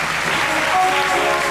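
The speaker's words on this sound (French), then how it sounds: "Est-ce qu'on peut l'acclamer très fort là?" A church congregation applauding loudly, a dense steady wash of clapping from many hands throughout, close and continuous.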